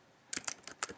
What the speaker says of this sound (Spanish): vamos a teclear el siguiente comando